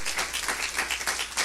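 Spanish-speaking church congregation applauding in praise during a service, a brief, dense burst of many hands clapping together at a steady, moderately loud level with no speech over it.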